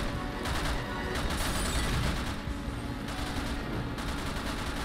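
Rapid gunfire in the video game Resident Evil 6, a dense, steady stream of close shots running through the whole stretch with no pauses, amid game noise.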